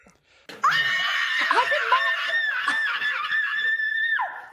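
A woman on Big Brother UK lets out a long, piercing scream. It starts abruptly after a brief quiet moment and holds steadily for about three and a half seconds before cutting off.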